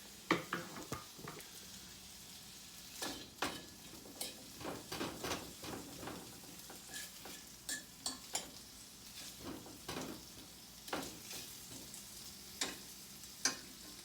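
Sausage and sweet potatoes are stirred in a pan with a utensil, giving repeated scraping clinks over a steady, fairly dry sizzle, close and alone with no voices.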